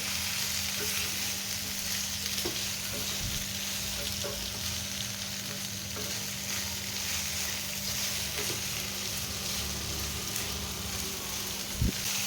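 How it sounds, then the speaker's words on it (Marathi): Chopped okra stir-frying in oil for a fasting thali: a steady, dense sizzle runs throughout, close and even, with occasional light clicks of a spatula against the pan. "तेलामध्ये भेंडी व्यवस्थित परतवून घ्यायची"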